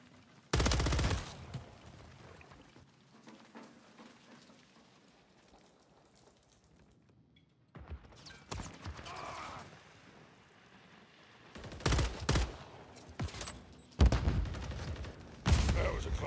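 Gunfire in Call of Duty Modern Warfare 3 multiplayer: a loud opening burst, a long quiet stretch, then repeated sharp automatic volleys and shots near the end.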